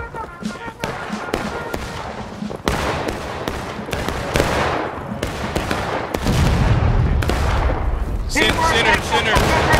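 Rolling musket volley fire in War of Rights, a rapid ragged series of sharp cracks and booms rippling down a line, growing denser and louder toward the end, with shouted voices mixed in.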